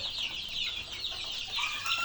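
Chickens and chicks in a coop peep and cluck in a busy, continuous high chatter while crumbled grower feed is put out, with steady rustling beneath and no clear talk.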